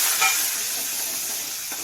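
Chopped onion, green chilli pieces, a bay leaf and ginger-garlic paste hitting hot oil, giving a loud, dense, steady hiss and sizzle close up that fades slightly, with no speech.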